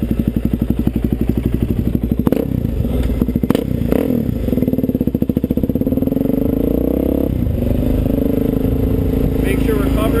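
A dirt bike's engine runs steadily while it is ridden, with a buzzing exhaust note, some thumps and clatter partway through, and the rider talking over it.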